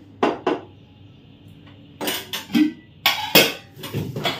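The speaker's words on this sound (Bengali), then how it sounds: "তো তার জন্য এত বাসন বেরিয়েছিল, কালকে সব মেজে ঘষে রেখে দিয়ে গিয়েছি, তোলা হয়নি, আজকে তুলবো" Stacked metal pots and dishes being put away, with close, loud clattering clanks: two quick knocks, then a busier run of overlapping bangs and rattles.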